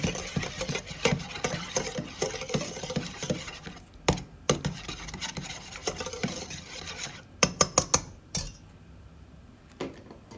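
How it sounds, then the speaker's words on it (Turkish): Warm milk, butter and egg whisked in a bowl, giving continuous scraping and rubbing strokes with occasional sharp clinks of the whisk against the bowl, close and alone. "Çırpıcı yardımıyla tekrardan karıştıralım."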